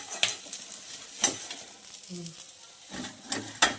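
Soft sizzling of two tengra fish frying in oil, broken by a few sharp scrapes and taps of a utensil against the pan; no talking.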